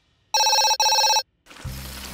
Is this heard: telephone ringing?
yes